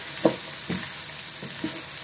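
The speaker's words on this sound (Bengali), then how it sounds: "সব একত্রে খুব ভালোভাবে নাড়া দিয়ে নেব।" Ginger paste and spices being stirred in a pan for restaurant-style bhuna khichuri with rice and lentils, a soft low sizzle broken by three or four brief spoon scrapes at an uneven pace.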